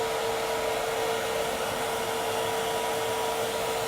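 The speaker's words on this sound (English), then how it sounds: "it's a good idea in between coats to use a hairdryer, just to make sure that these water-based paints get good adhesion" A hair dryer blows in a steady, continuous roar at close range, used between coats to dry water-based paint on taxidermy fish eyes, with no voices over it.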